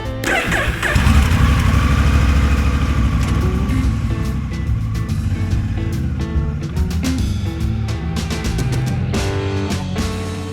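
Engine of a borrowed motorcycle on a long highway ride, a steady loud drone with the rush of wind that continues the whole time, close up from the rider's position.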